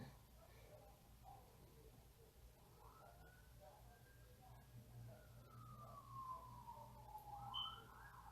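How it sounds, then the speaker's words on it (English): A distant siren wails faintly, one long rising and falling sweep drifting in over a low background hum, growing slightly louder toward the end. "I'm just hearing all kind of sirens."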